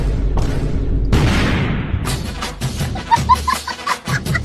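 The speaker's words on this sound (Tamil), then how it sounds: "அந்த சாணியில ஆட்டோ பாம் வச்சேன்" A Diwali firecracker bomb planted in a pile of cow dung bursts with a loud boom, followed by scattered crackling and thumping debris, with voices briefly heard afterward.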